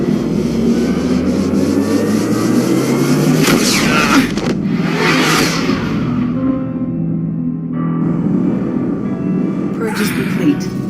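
The Normandy spaceship's drive in Mass Effect 2 engages and builds into a loud, rumbling engine roar with rising whooshes, while voices talk over it.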